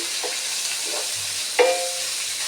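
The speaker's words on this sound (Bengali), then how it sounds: "ডিমের সাথে এই যে ভেজে নিচ্ছি" Scrambled egg fried together with other food in a pan gives a soft steady sizzle, broken by a few light scraping stirs and one sharper clink of a utensil.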